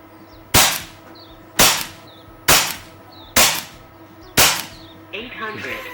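An Air Venturi Nova air rifle fires JSB 15.89-grain pellets, five sharp, loud cracks at roughly one-second intervals, each with a short decaying ring, and a faint voice murmurs briefly at the end.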